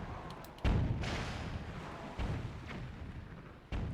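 Pirate cannon fire in Zelda Wind Waker booms in three muffled blasts spaced a second or two apart, each with a rumbling tail, moderately quiet and with no talk.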